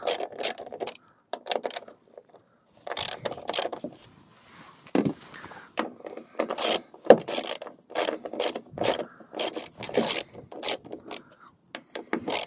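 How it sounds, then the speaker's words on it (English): Ratchet wrench unbolting an old tailgate strut bracket on a 2013 Hyundai Santa Fe, bursts of quick clicking and scraping in short irregular runs separated by silent gaps, fairly quiet and close. "So you just unbolt the old bracket."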